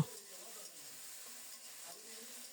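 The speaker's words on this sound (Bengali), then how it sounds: "বরবটি শিম আর মিষ্টি কুমড়ো ভেজে নেব" Yardlong beans, flat beans and pumpkin fry in a pan for bhuna khichuri, giving a steady, soft sizzle that stays even and close throughout.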